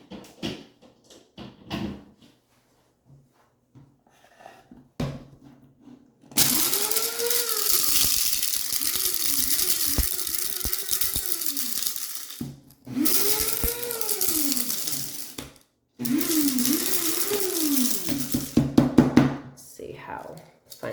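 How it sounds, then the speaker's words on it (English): Electric coffee grinder grinding whole cloves in a kitchen, loud whirring bursts of several seconds each with rising and falling pitch, separated by short pauses, after some quieter handling clicks and brief talk. "So I'm putting some cloves into the coffee grinder, and we're going to grind that up"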